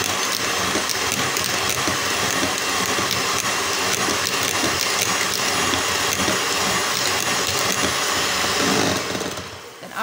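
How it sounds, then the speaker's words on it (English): An electric hand mixer whips cream on low speed with a loud, steady whir that holds for about nine seconds, then eases off briefly near the end. "I'm going to be using my hand mixer to do this. Now I'll just put on low heat first."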